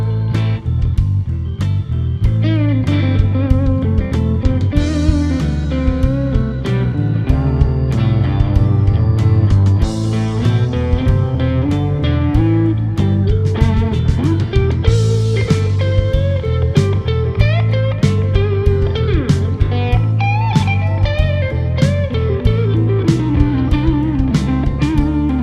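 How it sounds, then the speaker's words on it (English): Distorted lead guitar track playing a melodic line over a full song mix with drums and bass, dense and continuous at a steady loud level throughout. "We have a great lead guitar track now."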